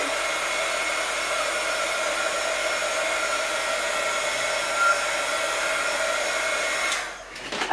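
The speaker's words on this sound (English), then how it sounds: "I'm just going to hit this with the heat gun real quick" A heat gun blows steadily on a Halloween scrapbook page, a loud, continuous broadband whoosh held for about seven seconds before it cuts off abruptly near the end.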